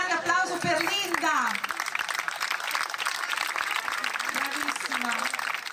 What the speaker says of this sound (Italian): Ancora un grande applauso per Linda.